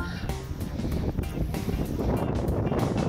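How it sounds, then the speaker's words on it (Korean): Wind buffets a frozen reservoir at an ice-fishing spot for pond smelt, roaring steadily and loudly across the microphone in broad, gusty rushes. "이 바람이 불어갖고"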